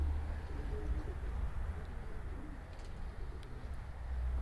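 Pigeons coo softly against a steady low rumble and dense background noise, the calls blurred and continuous with no talking.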